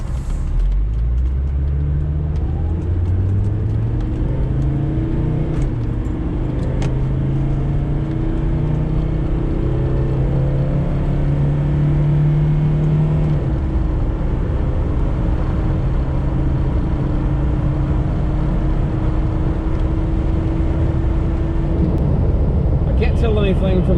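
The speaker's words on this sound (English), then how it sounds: "I'll give it another wide open throttle pull here as soon as we get out back on the highway" Car engine pulling at wide open throttle on a highway with water injection fitted, a loud continuous drone climbing steadily in pitch, then dropping and rising again, heard from inside the cabin with road noise beneath.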